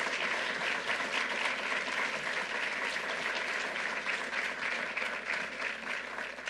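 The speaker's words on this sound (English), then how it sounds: "let's give them a really special round of applause." Steady applause from an audience at a bill-signing event on domestic violence, with dense, sustained clapping that stays even and loud for several seconds and has no talk over it.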